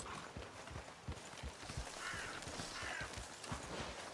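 Horses in the video game Red Dead Redemption II clip-clop over the ground with a steady, soft hoof rhythm, under a low ambient game background and with no talk.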